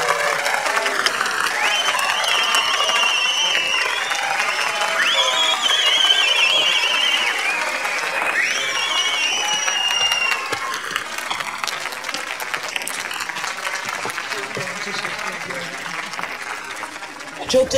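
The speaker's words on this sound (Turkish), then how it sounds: "Alkışlar Firuzan Hanım için." Audience applause and cheering greet a female singer at a wedding-style event, loud sustained clapping that gradually thins out, with tonal sounds and voices mixed in.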